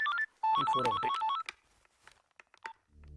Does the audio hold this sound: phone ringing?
yes